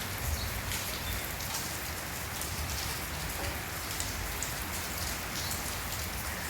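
Rain falls steadily outside, a dense, even hiss of drops striking surfaces, moderately distant and unbroken, with no voices.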